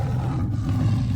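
A lion roars in the Savanah video game: a low, continuous rumbling growl fills the whole short burst at close range, loud and steady, with no voices over it.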